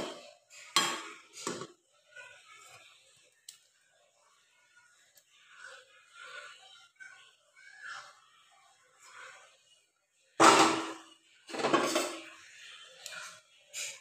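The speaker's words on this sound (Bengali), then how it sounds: "এই যে ভেজে রাখা আলুগুলো দিয়ে দিচ্ছি" Fried potatoes are tipped into a pot of chicken curry, with a few sharp clanks of a utensil on the pot and quiet stirring and scraping between them.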